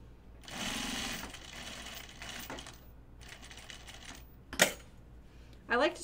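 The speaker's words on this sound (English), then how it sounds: "you're going to do the sewing exactly the same way we just did on the other one" Sewing machine stitching a quarter-inch seam, a nearby motor whirring in a few short runs of rapid stitching separated by pauses, with sharp clicks and knocks from handling the machine.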